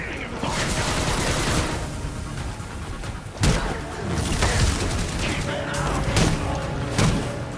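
A turret fires in Gotham Knights during a brawl: heavy bursts and booming impacts with mechanical clatter, loud and busy throughout, with voices mixed into the action.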